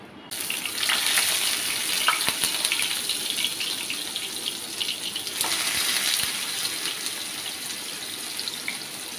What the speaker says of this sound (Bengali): আমি আবারও এরকম করে আস্তে স্লো হিটে ভেজে নেব